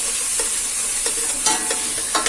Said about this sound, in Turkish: Evet bakın kıyma gayet güzel kavruldu.